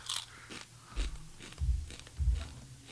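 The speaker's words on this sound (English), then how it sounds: "Crunch and munch." Close, crunchy bites and chewing on a snack, several loud crunches spaced about half a second apart with crackly textures between them, no talking over it.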